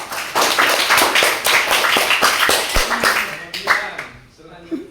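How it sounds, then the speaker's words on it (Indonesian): A classroom of students claps together in an Indonesian Islamic studies lesson, a burst of sharp hand claps that thins out and stops, with voices heard under and after it. "Tepuk tangan dulu"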